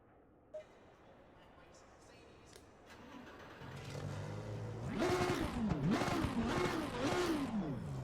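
A race car engine revs up loudly in several rising and falling bursts, close and aggressive, after a quieter stretch of background noise, in a racing game at Donington.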